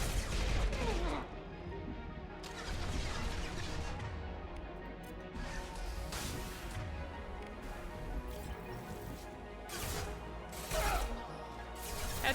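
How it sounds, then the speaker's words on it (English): Heavy gunfire rattles through a firefight in Mass Effect 2, with bursts of sharp shots and crashes coming in uneven clusters over a busy combat background, some louder volleys standing out. "Taking heavy fire."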